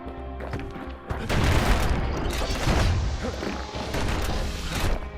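Weapon fire in the video game Bastion, a dense run of heavy booming blasts and crashing impacts filling about four seconds after a brief quieter lead-in, loud and close with no talk.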